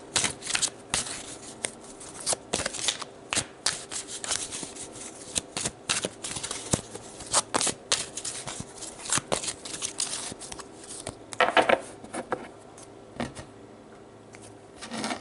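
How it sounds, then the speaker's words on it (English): Tarot cards are shuffled in close, repeated riffling and slapping bursts, an irregular papery run of flicks that continues throughout with no voice over it. "So I'm going to pull some advice cards for you guys on how to deal with this energy of your ex."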